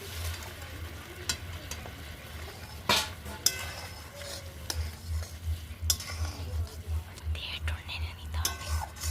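Fried bottle gourd kofta being stirred in a hot pan of gravy, with steady low sizzling, scraping spoon strokes and occasional clinks of metal against the pan, fairly close.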